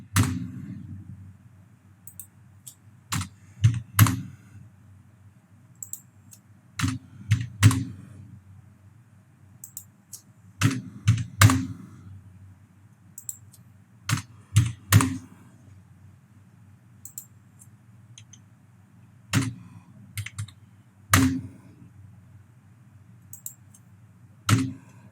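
Scattered clicks and taps of a computer keyboard while numbers are entered into an Excel spreadsheet, irregular keystrokes in small clusters under quiet background hum, with a voice speaking at times.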